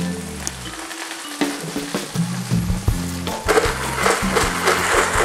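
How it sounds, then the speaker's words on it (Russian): Onions frying in a second pan with mushrooms being added, a steady close sizzle that grows louder and denser as the mushrooms hit the hot oil, over faint background music. "А в это время у меня на второй сковородке тоже поджарился лук, и я добавляю грибы."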